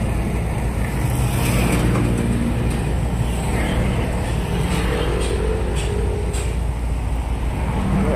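Busy road traffic near CP Garcia Highway and Bacaca Road, a continuous roar of passing cars and engines, with a low rumble and occasional louder vehicles going by close to the listener.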